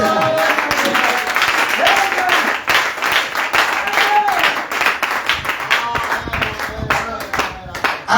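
A church congregation at a Sunday service applauds with sustained, dense clapping for several seconds. The applause swells and thins across the clip, and voices call out over it.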